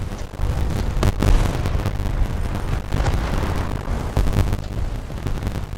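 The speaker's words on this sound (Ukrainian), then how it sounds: "Що по мені стріляють чи що?" Heavy gunfire and explosions from a War Thunder match during a fight over a capture zone: deep booming blasts and bursts overlap in a dense, continuous, loud barrage with no talk.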